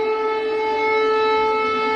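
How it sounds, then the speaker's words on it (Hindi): Air raid siren wailing across a Ukrainian city in wartime, one loud continuous steady tone rich in overtones holding for the full two seconds, with no talk. "खार्किव में ये एयर रेड के सायरन बजते नजर आ रहे हैं।"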